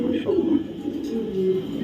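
Racing pigeons cooing close by in a loft or cage, low throaty rolling coos running through the short stretch, with someone talking over them.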